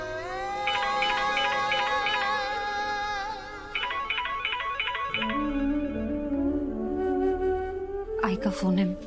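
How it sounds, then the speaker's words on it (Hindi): An incoming phone call rings with a repeating electronic melody in quick bursts, mixed with other sounds, before the tone shifts into lower, changing notes near the end. "फोन आ रहा है।"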